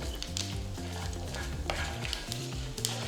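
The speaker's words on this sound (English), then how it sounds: "Once the oil is hot, add a teaspoon of chana dal, a teaspoon of mustard seeds and a teaspoon of cumin seeds and roast well" Chana dal, mustard seeds and cumin seeds roast in hot oil with a bright crackling sizzle and soft stirring clinks, close and steady, without voices.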